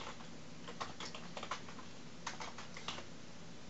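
Rapid typing on a computer keyboard during Java programming, with bursts of close, light key clicks in uneven clusters over a steady low background hum.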